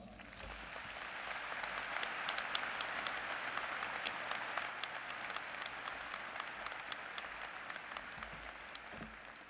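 A large commencement crowd applauds steadily to welcome the speaker at a university graduation ceremony, a dense, continuous wash of clapping heard from within the hall, with no voices over it.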